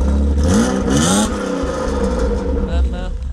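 BMW 520i fitted with an aftermarket exhaust, loud and close, revving with a rising then falling pitch and a raspy tone, with the engine roaring throughout and voices talking under it.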